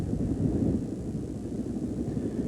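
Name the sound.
emergency helicopters in the distance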